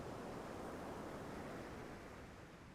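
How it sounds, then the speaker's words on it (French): Ocean waves wash in a steady, unbroken surf roar, soft and continuous with no distinct individual breakers and no voices. "ce son de vagues."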